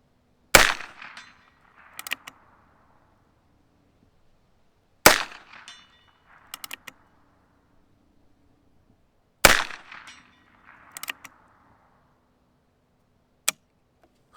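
Three sharp rifle shots from a scoped Heritage Rough Rider Rancher firing Remington Thunderbolt ammunition, spaced about four to five seconds apart, each followed by a short echo and faint distant clanks from the target range.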